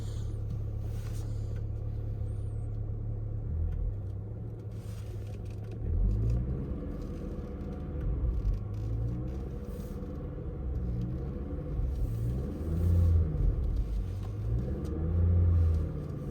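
A Volkswagen GTI with a 6-speed manual gearbox pulls off in first gear, its steady low engine rumble swelling with a few uneven revs as the car gets moving, close and continuous with no talking.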